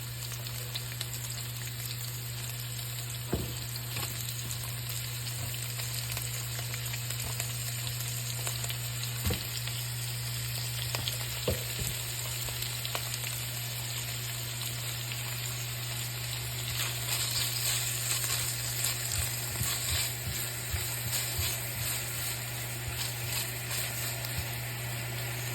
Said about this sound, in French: Donc je vais laisser dorer un tout petit peu les oignons, le hareng et les saucisses